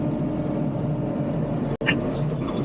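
Tractor engine running steadily at a low, even drone while bush hogging down a hill beside a pond, a short sharp break in the sound near the middle, then the engine continuing with some higher clatter.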